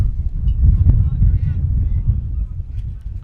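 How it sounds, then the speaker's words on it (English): Wind gusting at an outdoor high school baseball game, a steady low rumbling buffet on the microphone that swells and eases, with faint voices under it. "As the wind continues to gust here."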